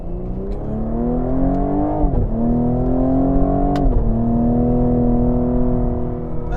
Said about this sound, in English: we are driving the Cadillac CT5-V first